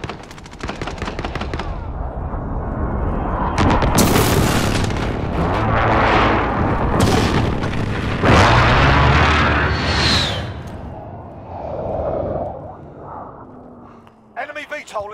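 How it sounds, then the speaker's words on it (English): Precision airstrike explosions and dense gunfire fill a first-person shooter battle on Xbox One, with sustained loud booms and rattling bursts up close and a game voice talking over the din. "Enemy precision airstrike"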